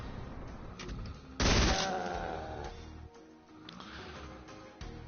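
A chaingunner in Doom co-op fires a rapid, loud burst of gunfire that tails off, followed by scattered quieter shots and game noise.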